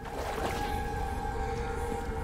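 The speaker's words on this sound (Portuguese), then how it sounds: "Que barulho de água foi esse?" A murky underwater-like water noise from the Resident Evil 4 Remake game, low and rumbling with a faint sustained tonal hum, steady at moderate level with no talking.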